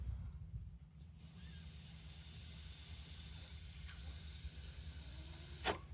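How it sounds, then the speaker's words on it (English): Breath blown through a disconnected brake line on a 2010 Ford Fusion makes a soft, steady airy hiss over a low background rumble, ending in a brief sharper puff. "And this one, I just blew on it. You may have just heard that."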